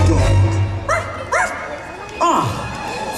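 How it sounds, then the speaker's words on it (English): A dog gives several short yips and barks in quick succession, some rising and falling in pitch, heard fairly close over a steady low hum. "Where is that dog?"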